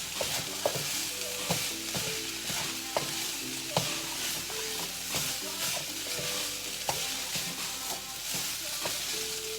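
Fried rice with peas and carrots is stirred in a hot pan, a constant sizzle broken by regular scraping strokes and clicks of the spatula, close and steady, without speech.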